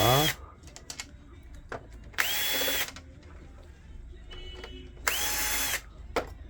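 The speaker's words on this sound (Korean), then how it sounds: "고무 바로 옆에 있는 나사들 4개도 풀어줍니다." A power screwdriver or drill whirs in three short bursts, loosening screws beside the rubber part of a Smart 320 overlock sewing machine, with small clicks and handling noises between the close, loud runs.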